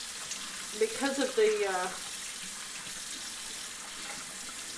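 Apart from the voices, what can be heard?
water rinsing a stone metate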